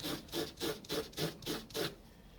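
Scotch-Brite pad rubbed back and forth over a Honda CB750 piston or cylinder part in a workshop, making a close, steady rasping scrub with about seven evenly spaced strokes.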